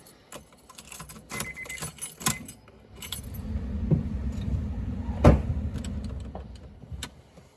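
Keys jangle and clink in several short bursts, close by, over the low rumble of a nearby Honda S2000 AP1 engine running.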